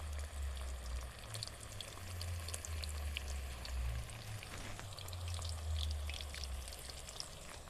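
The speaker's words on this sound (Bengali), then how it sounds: "কত সুন্দর ভাজা হচ্ছে দেখুন," Chicken pakoras deep-frying in hot oil, a steady close crackling sizzle with scattered bubbling pops and a low rumble from the burner throughout, no talking.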